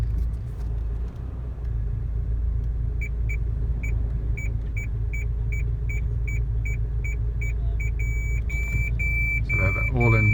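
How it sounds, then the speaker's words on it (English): A 2.2 i-CTDi diesel Honda Civic ES's reverse parking sensors beep in a steady regular series of short tones that speed into a continuous tone as an obstacle nears, over the low idling engine rumble. "it's got reverse parking sensors. Just want to show you they're actually working"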